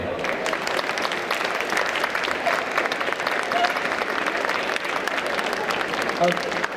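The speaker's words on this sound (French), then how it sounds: "Je pense qu'on peut les applaudir" A crowd at a hypnosis stage show during a convention claps in a sustained, fairly loud round of applause, with voices talking over it.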